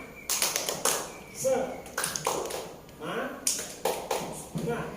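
A class of pupils claps a rhythmic 'tepuk semangat' pattern in a classroom lesson, with bursts of sharp hand claps in short groups alongside a teacher speaking.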